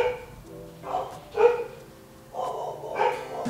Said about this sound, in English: Another dog intermission.